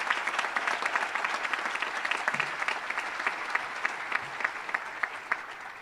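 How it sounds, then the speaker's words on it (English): An audience claps steadily at an 8th grade awards ceremony, a sustained, even round of applause with no voices over it. "please offer a round of applause as a thank you for that"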